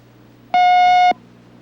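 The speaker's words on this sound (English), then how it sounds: "a buzzer will sound, and the turnstile will unlock" A single electronic buzzer tone from a steel mill turnstile card reader sounds for about half a second, loud and steady against a faint hum.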